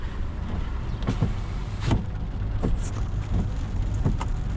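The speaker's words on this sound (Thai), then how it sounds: "ฝนตกอยู่นครหลวงเวียงจันทร์เฮามื้อนี้" Steady rain falls at Vientiane airport, a dense, constant hiss with a few louder passing swishes, loud and close, with no voices.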